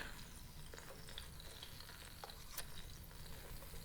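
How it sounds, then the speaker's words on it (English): Ginger and garlic frying and being stirred in a pan in the cooking game Venba: a faint, steady sizzle with occasional soft scraping stirs, no voices. "Add minced and crushed ginger garlic."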